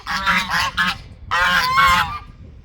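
A flock of domestic geese honks loudly and close by in two long, overlapping bursts separated by a short pause, with no talking.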